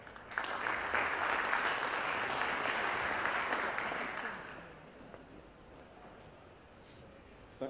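An audience at a construction conference in Qatar applauds a speaker, steady dense clapping for about four seconds that then fades to scattered claps and quiet room tone.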